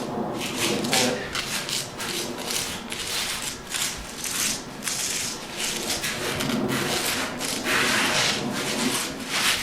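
A stick is dragged like a squeegee across a concrete garage floor to spread crack filler, making repeated rough scraping and rubbing strokes in a steady rhythm, close and fairly loud.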